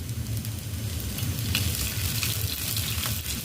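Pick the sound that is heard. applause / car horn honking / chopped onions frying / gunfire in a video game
chopped onions frying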